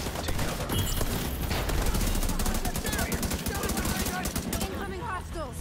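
Dense automatic gunfire in The Division 2, rapid overlapping bursts of rifle and machine-gun fire close up, sustained without pause through a chaotic firefight.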